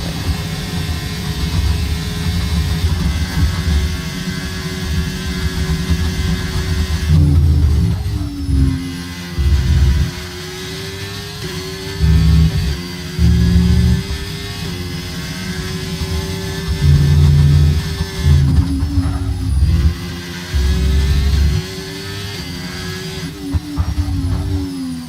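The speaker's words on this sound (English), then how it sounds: "Now let's just listen to the beautiful engine for some time." A race car engine laps Imola in a racing video game, a loud high whine that keeps climbing through the gears, with sharp drops at each shift and braking zone, steady over a long run and with no talk.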